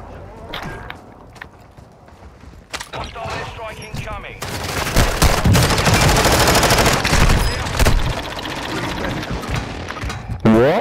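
Bursts of rapid gunfire ring out during a video game match, starting with scattered shots and building into sustained loud fusillades mixed with footsteps, while players talk over the action.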